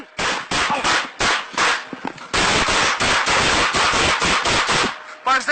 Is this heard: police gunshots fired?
yes